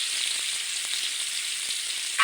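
Tomato, cumin and mustard seeds frying in hot oil for a soybean dish, a steady close hiss of sizzling with faint pops and crackles throughout and no talk.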